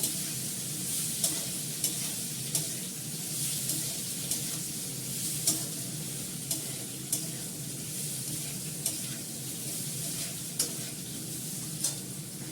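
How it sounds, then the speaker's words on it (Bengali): Potatoes fry in a pan with a peas and green chili mixture, giving a steady close sizzle broken by regular sharp scrapes of stirring every second or so, with no talking. "আলুটা ভালো করে লাল করে ভেজে নিচ্ছি।"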